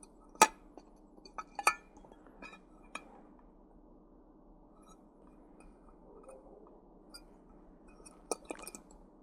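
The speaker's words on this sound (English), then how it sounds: "So the Trangia stove sits in there and it doesn't fall out or nothing." A small Trangia mini stove clinks against its metal stand as it is fitted in, giving a few sharp taps and rattles amid quiet handling noise.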